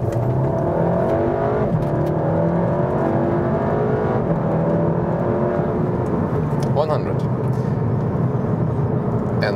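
Seat Leon Cupra 300 with DSG gearbox and all-wheel drive accelerating hard on a dry track, engine note climbing through gears with quick shift breaks, loud and steady throughout.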